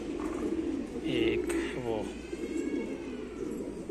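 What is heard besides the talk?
wild pigeons cooing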